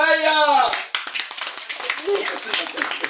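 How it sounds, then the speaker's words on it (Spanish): Guests at a child's sixth birthday party clap together, a burst of quick, crisp hand claps following a drawn-out shout, with voices mixed in. "¡Gritos y aplausos para ella!"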